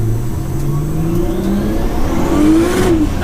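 A 700bhp Nissan R33 Skyline runs at light throttle, its engine a loud, close, steady hum that rises slowly in pitch, with no talking.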